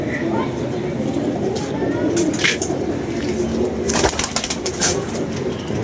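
Pigeons coo repeatedly near a pigeon keeper's net, soft throaty calls over steady background noise, with people talking nearby.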